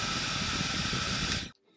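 Steady, even airflow hiss from a hair styler fan on low, running continuously, then cutting off abruptly near the end.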